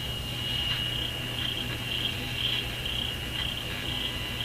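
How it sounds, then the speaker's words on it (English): A cricket chirps close by in a steady, unbroken trill that pulses slightly, with a low electrical hum beneath it. No one speaks. "Hey, the cricket."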